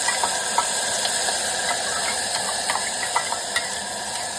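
Washed rice and green mung dal hiss in hot oil for khichdi, a steady close sizzle with faint scattered ticks and crackles throughout.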